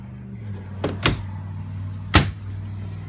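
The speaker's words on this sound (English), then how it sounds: "These drawers are fully functional. They pull out." Cabinet drawers in an Open Range Roamer 376FBH RV slide open, giving two quick wooden clunks and then a sharper third knock, close by over a steady low hum.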